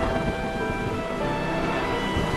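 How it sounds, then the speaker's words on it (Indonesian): Rain falls steadily, a dense, even hiss of drops spread across the whole stretch with a faint low rumble underneath, continuous and unvarying without any voices. "Hujan turun membasahi tanah Daha."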